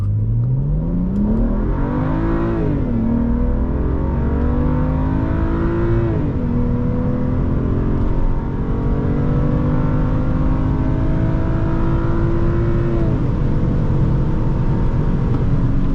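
A 2011 BMW 335i, rear-wheel drive, accelerates hard in a 0 to 60 run, its engine climbing loudly through several gears with brief dips at each shift, heard from inside the car.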